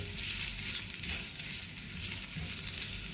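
Butter and cut pieces of cheese fry in a pan for a breakfast cheese egg fry, a soft, steady sizzle with a faint bubbling crackle, quiet and continuous with no voices.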